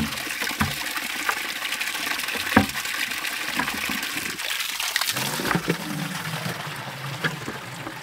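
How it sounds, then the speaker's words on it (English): Water from a supply pipe pours steadily into the bucket of a ram pump outdoors, a continuous splashing gush with a few sharper sloshes, close and fairly loud throughout. "The first pipe that is coming down from the source is called the supply pipe, and it is supplying water to this bucket."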